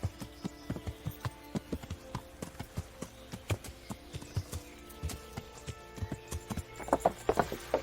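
Horse hooves clip-clop in the medieval video game Kingdom Come: Deliverance, a steady run of crisp, close strikes in an even rhythm that quickens and crowds together near the end.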